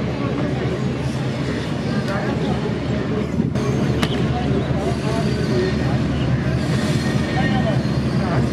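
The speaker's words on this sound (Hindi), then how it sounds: "ये ट्रेन अप्रोच कर गई है प्लेटफार्म पर कंगनपुर रेलवे स्टेशन" A train pulled by a 2000 HP electric locomotive arrives at the platform of Kanganpur Railway Station, India, rumbling and clattering steadily nearby, with a sharp metallic screech partway through; a voice talks over the noise.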